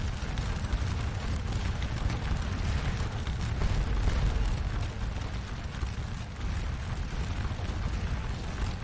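Continuous rumbling battlefield gunfire and cannon booms in the Napoleonic war game Scourge of War, a dense steady roar of distant musketry and artillery with no speech.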